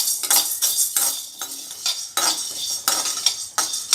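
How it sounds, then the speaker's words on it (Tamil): Chana dal dry roasting in a pan for homemade sambar powder, with a spatula stirring and scraping the lentils in a quick, uneven rhythm of clinks and rustles, close and fairly loud, with no talk. "கடலைப்பருப்பு இதே மாதிரி ரோஸ்ட் பண்ணோம்."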